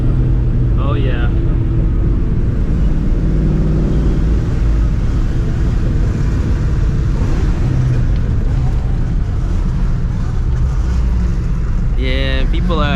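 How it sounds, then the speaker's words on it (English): Loud, continuous low engine rumble with rising and falling revs from several cars nearby at a car meet, and brief speech near the start and end. "people are already revving like crazy"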